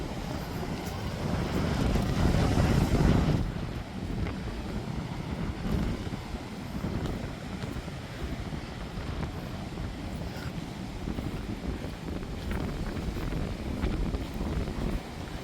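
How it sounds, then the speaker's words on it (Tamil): Strong wind roars steadily over open sea at Dhanushkodi, with a louder gust at the start before settling into a constant, rumbling rush. No one speaks. "கடலில் பாருங்கள் சரியான காற்றுங்க"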